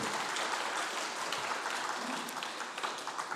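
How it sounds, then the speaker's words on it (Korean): A church congregation at Sunday worship applauds its praise team and choir, a dense, sustained wash of many hands clapping that stays steady throughout. "우리 찬양팀 찬양대를 위해서 감사의 박수 한번 칩시다."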